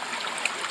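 A small stream runs past fallen timber in Tasmanian forest habitat, giving a steady, close, soft rush of flowing water with a faint bright trickle, heard alone without voices.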